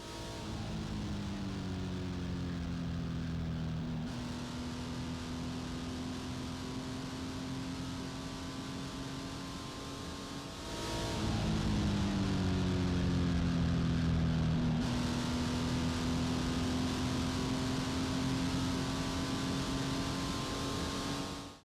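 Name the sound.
car driving through turn 9 at Willow Springs Raceway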